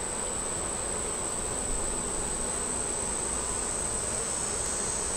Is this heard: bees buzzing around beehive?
yes